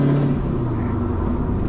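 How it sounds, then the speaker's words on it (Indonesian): A third-generation Subaru Impreza WRX STI revs at low throttle, a loud, close, throaty engine rumble that holds steady with a slight rise and fall and no talk over it. "Ih gila, kenceng banget tuh mobil."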